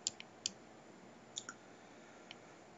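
Several brief, faint mouse clicks come from clicking through Adobe Connect, spaced unevenly over a quiet background with no talk.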